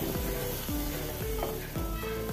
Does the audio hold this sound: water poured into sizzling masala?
yes